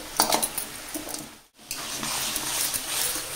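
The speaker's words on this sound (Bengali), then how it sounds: "ইলিশ মাছের মাথাটা খুব ধুয়ে ভালো করে কচু শাকের মধ্যে মিশিয়ে দিলাম" A hilsa fish head stirred into taro greens in a metal pot gives steady clinking and scraping with a soft sizzle. There is a brief silent pause midway, then the stirring resumes.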